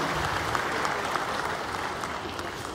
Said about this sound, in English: A round of applause again for Dr. Joseph Whittal.